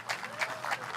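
A crowd at a bass fishing tournament weigh-in on the Columbia River claps and cheers in a steady, dense burst of applause, moderately loud and close.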